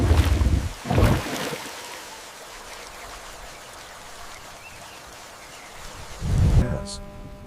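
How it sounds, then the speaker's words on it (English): Heavy monsoon rain pours steadily in the Amazon jungle, with deep rumbling thunder bursts at the start and again near the end, the downpour a constant dense hiss between them. "The rains are relentless in the Amazon basin"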